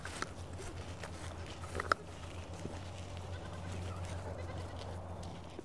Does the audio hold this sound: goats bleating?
yes